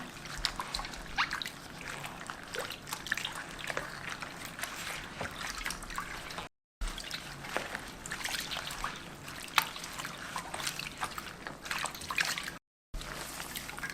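Barley malt being kneaded and squeezed by hand in water for sikhye, giving soft continuous sloshing and trickling close by, with two brief silent gaps.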